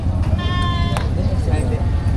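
Goats bleat at a livestock market in Padre Garcia, Batangas, one loud, close, wavering cry followed by fainter calls, with crowd murmur and voices beneath.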